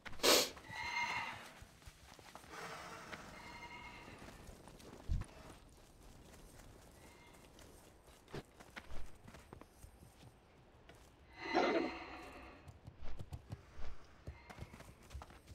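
Faint, sparse hoof clops of undead horses in a video game sound at a distance, with a couple of louder snorting or whinnying bursts breaking through a quiet background.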